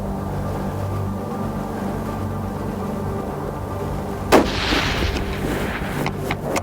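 A single sharp rifle shot fired on a hunt, one loud crack partway through with a short rolling tail, against a steady engine-like hum.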